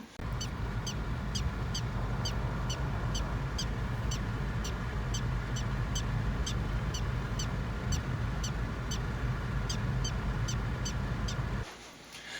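Prairie dogs give rapid, regular high-pitched chirping barks that repeat steadily over a constant outdoor background hiss, then stop abruptly near the end.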